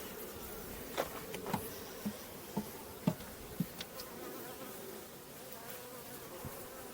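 Honeybees from a small fall swarm cluster buzz close around a beekeeper's head in a steady, dense drone. Louder individual bees pass near the ear now and then, with no talking.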